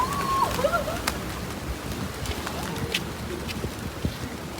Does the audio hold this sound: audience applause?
no